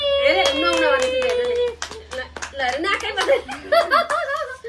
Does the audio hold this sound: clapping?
yes